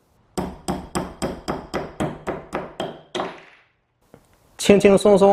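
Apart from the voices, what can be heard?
hammer striking a screw until it breaks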